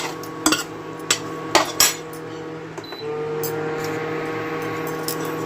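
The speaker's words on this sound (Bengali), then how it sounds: "ভালো করে মশলাগুলো এই আলু আর টমেটোর সঙ্গে কিন্তু মিশিয়ে নিতে হবে" A spoon mixing spices into potatoes and tomatoes in a pan: several metallic clanks and scrapes against the pan, then a steady soft hiss of cooking, with no talking.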